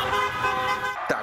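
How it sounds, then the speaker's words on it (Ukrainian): Car horns honk in the Washington streets during a celebration of the 2020 presidential election result, a sustained blaring tone with a sharper toot near the end, amid city noise. "Водії тиснуть на клаксони з обіду і до пізньої ночі."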